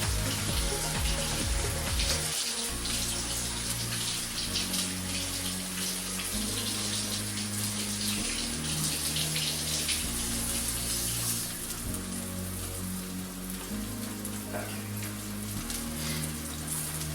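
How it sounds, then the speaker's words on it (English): Water runs steadily from a tap, a continuous splashing hiss with brief changes as a knife is rinsed under the stream. "Just going to rinse my knife off real quick."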